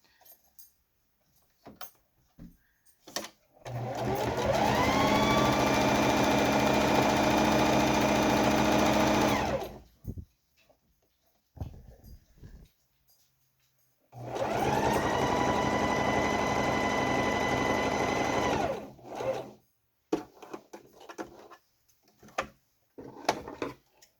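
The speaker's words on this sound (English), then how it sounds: "you're going to sew that at 3/8 on your sewing machine" A sewing machine stitches a fabric mask at a 3/8-inch seam along a curved edge in two long steady bursts, each about six seconds, separated by quiet handling clicks and rustles.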